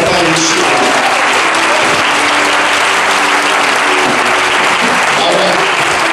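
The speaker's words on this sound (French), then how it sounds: "Que le peuple dise Amen. Acclame Papa Yeshua" Loud, dense applause from a church congregation at a Sunday service, sustained for the whole stretch, with voices mixed into the clapping.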